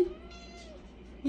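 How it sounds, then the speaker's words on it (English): A pet cat gives a faint, drawn-out meow, quiet and close, framed by two short louder bursts at the start and end. "Meow."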